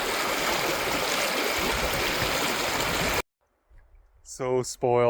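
A river flowing close to a forest homestead makes a steady, loud rushing wash for about three seconds, then cuts off to near silence before a voice begins speaking.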